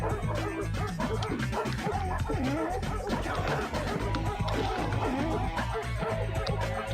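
Dogs barking and yipping in the Sega Saturn game Three Dirty Dwarves, a boss fight with a man carrying a pack of dogs; steady busy game audio with repeated yaps layered over music and effects.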